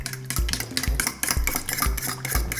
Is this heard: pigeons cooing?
no